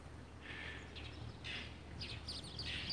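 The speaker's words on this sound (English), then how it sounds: "You hear that bird?" A bird chirps outdoors on Christmas day, a handful of short, faint tweets scattered across the clip over a low background hum.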